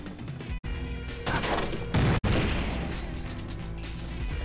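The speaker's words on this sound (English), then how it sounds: "I'm throwing a grenade in that corner straight away." A grenade detonating in the Splinter Cell video game, a loud burst followed by dense crashing debris and rattling mechanical noise, with sharp cuts and continuing clatter throughout.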